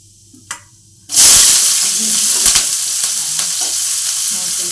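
Mustard seeds, garlic, ginger and shallots hit hot oil after a quiet moment, bursting into a loud, sustained sizzle and crackle that stays strong to the end.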